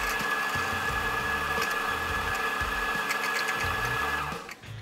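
An espresso coffee grinder runs continuously for several seconds with a steady mechanical whir and buzzing hum, then winds down near the end, heard up close with no talking.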